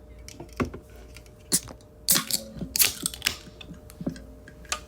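A can of Poppi root beer soda cracked open, a sharp snap and short hiss among scattered clicks and handling noises, close and fairly quiet.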